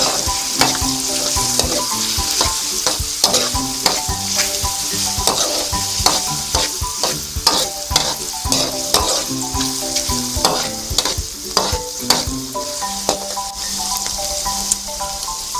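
Squid sizzles and crackles steadily in hot oil in a pan for Filipino pancit bihon, with a ladle scraping and clinking against the metal again and again as it is stirred, all close up with no voices.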